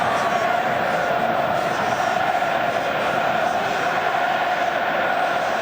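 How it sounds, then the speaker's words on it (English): A French rugby crowd at a France versus Australia match roars steadily in support of their team, a loud, dense, sustained wall of voices and chanting with no breaks. "The French crowd try and support their team in defence here."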